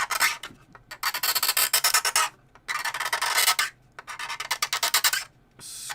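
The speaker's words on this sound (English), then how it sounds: "scraping" A blade scraping along a seam on a Type 45 destroyer scale model, with repeated rasping strokes in three rhythmic bursts separated by short pauses, close and crisp.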